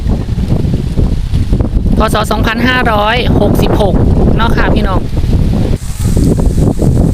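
Strong, steady wind roars across a farm growing vegetables and fruit, with a loud constant rush that holds throughout, while someone talks over it.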